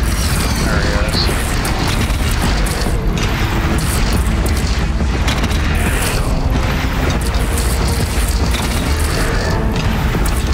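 An explosive barrage in a Horizon Zero Dawn boss fight against a Helis machine keeps booming and crashing, a dense, loud, continuous stream of game explosions and mechanical clatter with a voice talking over it.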